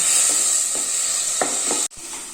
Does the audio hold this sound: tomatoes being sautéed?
yes